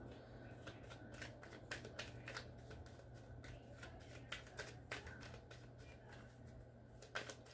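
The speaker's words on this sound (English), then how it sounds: "Let me finish getting the cards out." Tarot cards are handled and laid out at a quiet, close level, with a steady run of crisp flicks, slaps and shuffling rustles over faint background hum.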